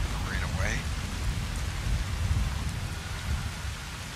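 Steady rain pours in a modded Fallout New Vegas wasteland, a dense, even hiss with low rumbling like distant thunder; a brief faint tonal sound rises near the start.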